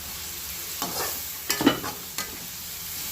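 Tomatoes, mint, coriander and green chillies frying for a chicken semiya biryani, with a steady broadband sizzle broken by a few scraping stirs from a spoon in the pan, close and moderately loud, no voices.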